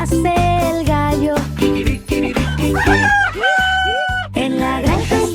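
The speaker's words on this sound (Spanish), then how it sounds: "Y cómo hace el gallo" Rooster crowing within a Spanish children's farm-animal song, sung over a full, steady musical backing that stays loud throughout; the crow is not clearly separable from the singing and instruments.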